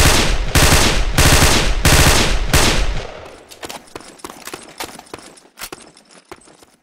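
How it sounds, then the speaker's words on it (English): M4 assault rifle firing on full auto, loud rapid bursts of shots in the first three seconds, followed by sparser single cracks and clinking casings or echoes. "This video illustrates the recoil of an M4 assault rifle. When firing on full auto, the spread and kick is moderate."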